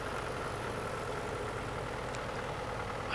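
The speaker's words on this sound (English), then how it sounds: "The Massey Ferguson," A vintage Massey Ferguson tractor ticks over at idle at a tractor show, a steady low engine rumble with a faint bump of extra noise at the very end.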